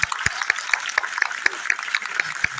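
Audience applause at a Hindi comic poetry gathering (hasya kavi sammelan), a crowd clapping steadily with sharp periodic claps standing out over a dense, moderately loud wash of hand claps for the whole stretch.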